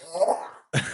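An old dog gives a few short, rough coughs up close indoors, a hoarse hacking burst followed by a brief pause and another sharp cough.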